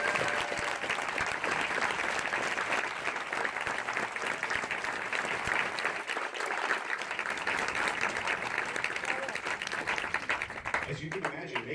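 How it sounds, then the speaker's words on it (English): A large crowd applauds at a Marine Corps recruit graduation ceremony at MCRD San Diego, with steady, dense clapping that holds for about eleven seconds before thinning near the end. "please join me in a round of applause and appreciation for their many"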